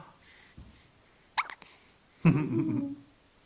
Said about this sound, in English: Baby hiccups.